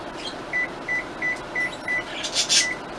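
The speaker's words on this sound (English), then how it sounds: "I think I'm going to go ahead and preheat my oven at 375 degrees" An oven control panel beeping as it is set to preheat to 375 degrees, six short evenly spaced electronic beeps over a low kitchen hum, with a brief clatter near the end.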